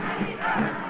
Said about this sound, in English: I sit among the joyous crowd and try to catch the spirit.